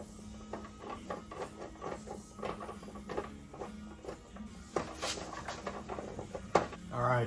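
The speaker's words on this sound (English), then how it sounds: "let's start unbolting and loosening and making sure this does not fall down here." Bolts being unbolted and loosened on a Mercedes C63 during rear main seal work: a run of sharp metallic ticks and clicks from a ratchet or wrench, steady and close, with a few louder clanks near the end and no talking.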